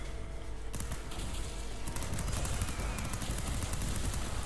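Rapid rifle gunfire from the side-scrolling video game Fury Unleashed, dense bursts of sharp shots repeating continuously at close range with no pause throughout.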